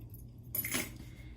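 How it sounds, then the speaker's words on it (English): Car keys jangle briefly inside the pocket of a Vera Bradley bowler bag, a short, faint metallic rattle in a quiet room. "And in those two pockets, I have my car keys."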